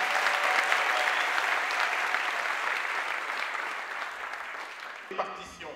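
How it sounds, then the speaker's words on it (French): Sustained audience applause fills a political opposition convention hall, dense and steady for about five seconds before tapering off, with a brief murmur of voices at the end. "Je vous demande d'applaudir encore une fois Jean-Félix Senga"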